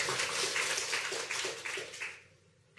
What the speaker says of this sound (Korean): 그럼 모든 분들 생각하며 하나님을 찬양하는 우리 박수할까요?